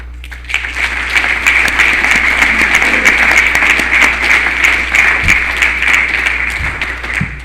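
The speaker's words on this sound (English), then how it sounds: "Usually I get an applause for 74." An audience at a Narcotics Anonymous speaker meeting in New York City applauds steadily, a dense, sustained clapping that swells quickly and holds for several seconds.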